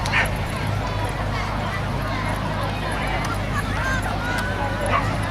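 Dogs bark and yip now and then at an outdoor dog show with a trick display team, set against a steady crowd murmur and continuous background noise.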